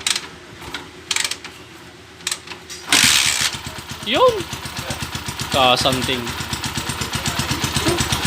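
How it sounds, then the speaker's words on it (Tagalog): A motorcycle engine starts partway through and settles into a steady, rapid idle with a hissing, leaky-sounding exhaust, close by, with people talking over it. "ito na yung andar ng motor ng Uncle, oh."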